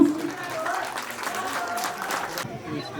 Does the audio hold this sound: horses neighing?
no